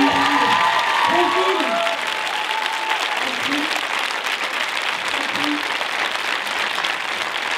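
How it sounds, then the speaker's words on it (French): Studio audience applause at a French comedy preview screening, a dense steady wash of clapping that stays loud throughout, with brief bits of voice and whistle-like tones poking through early on. "Applaudissements, Jean-Michel."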